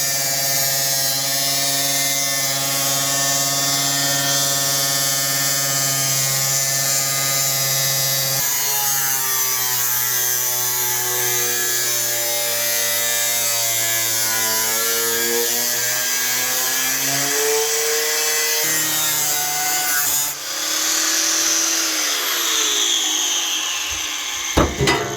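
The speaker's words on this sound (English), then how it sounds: "It looks like it's spot welded from below, so I'll drill that out" Drill boring out spot welds on a car floor panel, a loud continuous whine that shifts pitch several times as the bit bites into the metal, heard alone with no voices.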